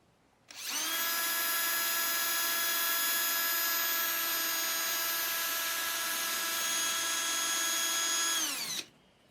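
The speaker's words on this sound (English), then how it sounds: "I use this power strop. This is just a round strop in a cordless drill." A cordless drill spins a round power strop against a hook knife, whirring at a steady high pitch for about eight seconds after a quick start, then winding down and stopping.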